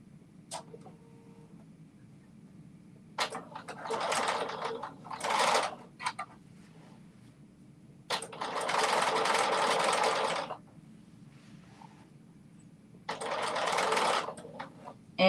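A sewing machine stitches mesh and fabric together in several bursts of a few seconds each, a steady close mechanical whir that starts and stops with quiet pauses between runs.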